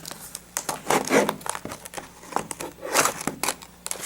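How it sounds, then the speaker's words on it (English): Scissors snip and rip through the plastic and cardboard packaging of a Vanguard trial deck of cards, making close, irregular bursts of crinkling, tearing and cutting that rise and fall over several seconds. "With our scissors."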